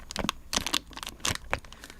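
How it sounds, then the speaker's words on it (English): A bottle of alcohol is handled close up, giving a run of irregular crinkling, rustling and clinking sounds spread over about two seconds with no talking. "That's the sound of a bottle of fucking alcohol."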